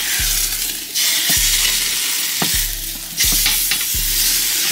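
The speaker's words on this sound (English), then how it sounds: "We're gonna sear it on both sides for maybe 3 to 5 minutes." Meat for birria tacos sears in a hot pan with a loud, intense, continuous sizzle, broken about once a second by low thumps and scrapes as the pieces are moved or pressed.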